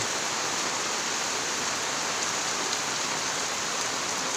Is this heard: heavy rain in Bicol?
yes